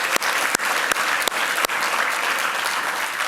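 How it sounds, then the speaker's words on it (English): A closing round of applause from a forum audience for participants and presenters, dense and loud clapping sustained throughout, punctuated by a few sharper knocks near the start. "one last round of applause for all of our participants and presenters today"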